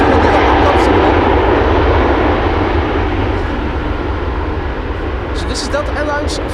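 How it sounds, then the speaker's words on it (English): A Delta Airlines Airbus A330neo at Amsterdam Schiphol Airport, its engines roaring loudly and steadily throughout, with a voice talking over the jet noise. "This is Delta Airlines, Flight 49, an A330neo"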